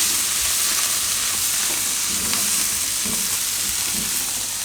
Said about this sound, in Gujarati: આ ટમેટાને થોડીક વાર પકાવી લઉં